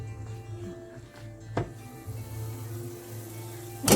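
Egusi melon seeds fry in oil in a pan with a steady, soft sizzle as they are stirred, and a couple of sharp knocks of a utensil against the pot stand out.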